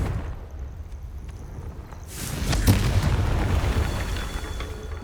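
A Confringo blasting spell in Hogwarts Legacy detonates with a loud, broad boom that swells around the middle of the clip and lingers as a rumbling roar before slowly fading, following a quieter stretch of low ambient rumble.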